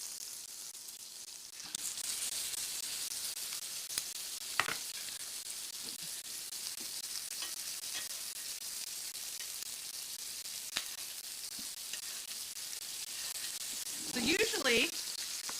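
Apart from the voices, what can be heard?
steak sizzling in a hot skillet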